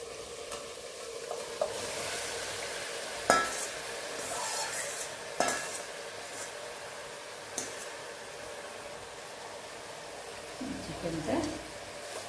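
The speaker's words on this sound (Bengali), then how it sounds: "এবার এখানে আমি এই দইতে মেশানো এই চিকেনটা দিয়ে দিলাম।" Yogurt-coated chicken tipped into a hot pan and stirred, with a soft steady sizzle, a few sharp clinks of a utensil against the pan, and quiet scraping throughout.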